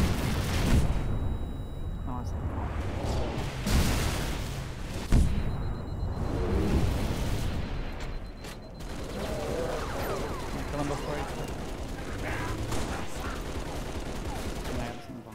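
Gunfire and explosive bursts in a Halo: Reach Firefight match, dense and continuous with several louder blasts, under steady talking from players throughout.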